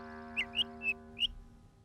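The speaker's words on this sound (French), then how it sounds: "le petit oiseau fit entendre un" A small cartoon bird in a Miffy story gives four short, bright chirps in quick succession, clear and close over a soft sustained musical backing.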